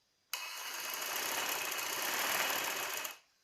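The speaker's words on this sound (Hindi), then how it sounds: "इसी तरह दोनों स्लीव्स पे सिलाई लगाएंगे।" A sewing machine runs steadily for about three seconds, stitching the sleeves of a baby's summer frock, starting abruptly and stopping cleanly with an even whirring hum and no talking.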